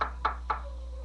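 Two sharp knocks on a door, evenly spaced about a quarter second apart, fairly close and clear over a low steady hum, with no voices.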